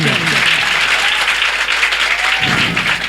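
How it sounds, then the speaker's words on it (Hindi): Audience at a school children's day annual celebration breaks into loud, dense applause, a steady roar of clapping that fills the whole stretch, with some voices faintly audible beneath it. "एक बार जोरदार ताली बजाएंगे"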